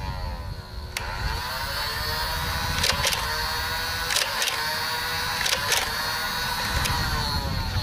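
Nerf N-Strike Barricade blaster shooting Whistler darts, a run of sharp mechanical clacks in small clusters over steady motor whir, fairly close and loud, with no voices.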